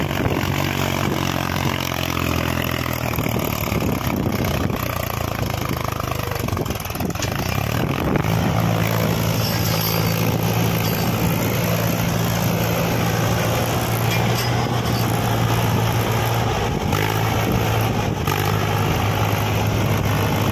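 Swaraj 735 FE tractor engine labouring in a muddy, swamp-like field, loud and continuous throughout, with a steady low drone that shifts pitch partway as the load changes.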